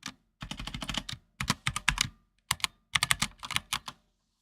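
Someone types a password on a computer keyboard in quick close-up bursts of key clicks, separated by short pauses, with no talking.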